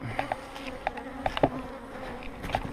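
Honeybees buzz around an open hive as frames are handled, a steady insect drone broken by several short, louder buzzes of individual bees passing close.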